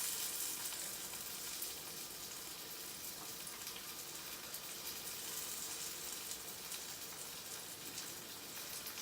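Sausage sizzles steadily in a frying pan, a dense, even crackle and hiss that stays loud and unbroken throughout, with no talking.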